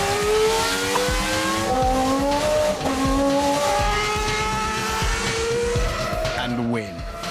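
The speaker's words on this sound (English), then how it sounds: "an F1 car accelerates to the kinds of speeds at which a jet aircraft takes off" A Formula 1 race car roars at high revs, its engine note climbing through rapid gear changes and tire squeal, loud and continuous with someone talking over it.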